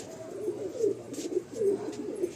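A Madrasi pigeon coos close by in soft, repeated rolling calls, about four phrases in quick succession against a quiet room background.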